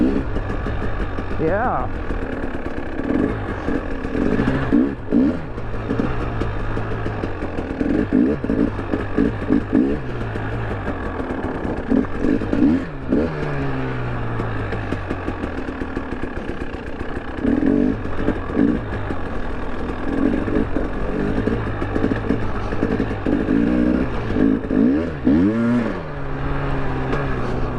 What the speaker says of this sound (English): KTM warm up a little bit more here.